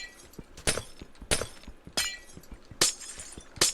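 Old glass blocks in a Minecraft world are smashed one after another, five or six crisp shattering bursts at a steady, fairly quick pace, close and clear with no voice.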